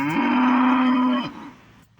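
A heifer cow in labor on a farm lets out one loud, sustained, close moo lasting just over a second, then trails off into quiet.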